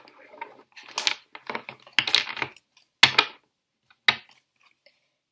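A deck of tarot cards is shuffled close by in irregular crisp riffles and clicks, some bursts dense and others single snaps, with quiet gaps and no voices.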